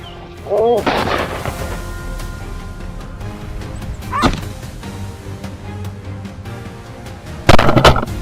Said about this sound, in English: One shot rang out, keeping the field safe and sound.